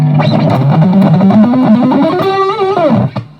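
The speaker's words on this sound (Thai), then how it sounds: "จะลองเอารีเวิร์บปิดให้ฟังนะครับว่า เสียงมันมันหนาเหนียวยังไงครับ" A vintage 1977 Japanese Tomson electric guitar with a bolt-on neck and high string action, played dry with reverb off: a loud, thick, distorted sustained tone with a slowly rising bend, cutting off abruptly at the end.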